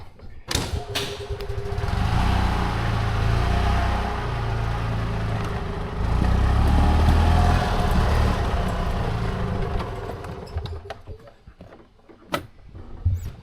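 An EzGo TXT golf cart with a rich-running, slightly smoky carburetor engine drives along, its low engine drone rising and falling steadily after a few initial thumps, fairly close and without talk.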